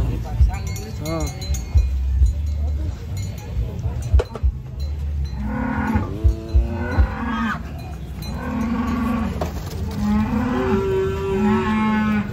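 Giant cattle at a livestock contest in Bogor, Indonesia, give several long, drawn-out moos one after another, with clinking bells and people talking nearby underneath.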